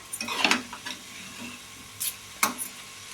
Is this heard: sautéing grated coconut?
yes